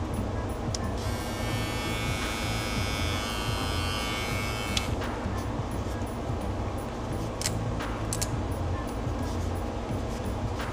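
A Babyliss Pro Lo-ProFX compact hair clipper buzzes steadily up close, a constant electric hum that carries through the whole stretch.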